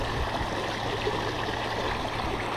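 Water runs steadily through an irrigation channel in a Philippine rice field, a continuous close rushing and gurgling flow with no breaks.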